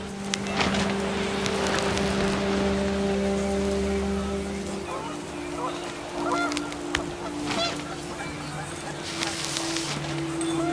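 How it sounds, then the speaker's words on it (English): Panicked geese honk in What Remains of Edith Finch, scattered calls over a steady bed of wind and rain-like noise with low drones, while a voice talks over much of it. "wind picked up, and panicked geese appeared and quickly went."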